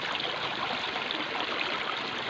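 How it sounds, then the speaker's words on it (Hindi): A natural spring stream flows through a quiet, unpolluted forest spot with grass and plants, a steady, close rushing and burbling of water heard alone. "ये कुदरती देखो चश्मों का पानी है, इसका आवाज़ है"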